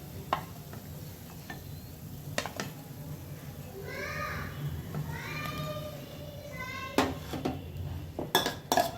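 Sweet corn cheese ball batter is stirred in a bowl, with repeated spoon scrapes and clinks against the sides that come in bursts and grow sharper toward the end, set against a low background hum.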